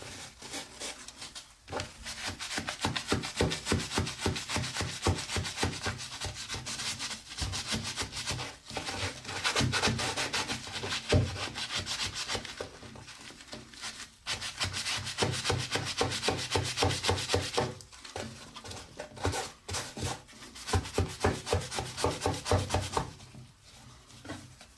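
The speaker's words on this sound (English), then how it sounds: "Okay, I'm going to take this scrubber that they provided." Steady back-and-forth scrubbing of stained tile grout with a Zap scrubber, a dense rasping rub that runs continuously at close range with a few short pauses and no talk.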